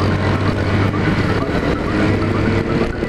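Motorcycle engines rev hard against the rev limiter on a busy town-centre street, a loud, continuous, stuttering roar that runs throughout.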